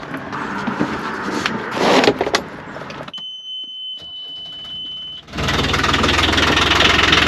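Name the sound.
boat engine starting after battery fix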